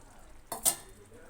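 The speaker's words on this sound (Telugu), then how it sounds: "ఇప్పుడు మనం కాకరకాయ ముక్కలను యాడ్ చేసుకోవాలి ఇందులో" Bitter gourd pieces tipped into a pan of thickened curry gravy and stirred, a short wet clatter and sizzle lasting about a quarter second against a quiet kitchen background.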